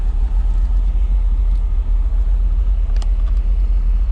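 An 89 Jeep Grand Wagoneer truck with a 727 Torqueflite transmission runs on a test drive, its engine giving a loud, steady low rumble throughout, with a faint brief click partway through.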